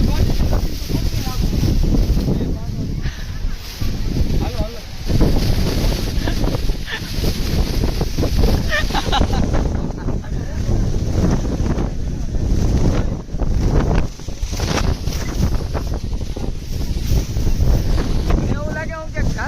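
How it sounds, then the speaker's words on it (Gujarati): Strong, gusty wind roars and buffets the microphone steadily at a hill station, a continuous loud rush with bursts of gusting, and voices occasionally mixed into the noise. "પવન એવો જોર જોરથી ચાલે છે"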